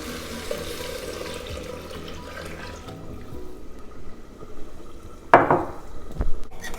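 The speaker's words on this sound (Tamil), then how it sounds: "இப்போ தண்ணி ஊற்றிடலாம்." Water is poured into a pan of ghee-roasted rice, a soft running wash of liquid that swells into a louder splashing burst near the end.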